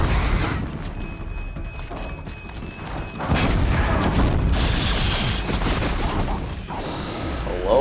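A fire attack hits demonic scrappers in Horizon Zero Dawn: The Frozen Wilds, heard as a dense run of booming impacts, thuds and crashing bursts over low rumbling game noise, loud and close throughout.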